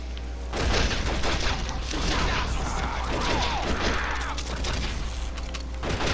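Dense, continuous gunfire and booms from the video game Red Dead Revolver, loud and layered with clattering mechanical impacts throughout.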